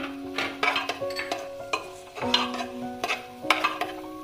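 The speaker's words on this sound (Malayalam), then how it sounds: "2 ടീസ്പൂൺ മല്ലിപ്പൊടി, 1/2 ടീസ്പൂൺ മഞ്ഞൾപ്പൊടി നമുക്കിതിലേക്ക് ആഡ് ചെയ്ത് കൊടുക്കാം. എന്നിട്ട് ജസ്റ്റ് ഒന്ന് വഴറ്റി കൊടുക്കണം." Coriander and turmeric powder being sautéed for a pressure cooker biryani: repeated spoon scrapes and knocks against the pot at an uneven rhythm, over a faint sizzle, close by.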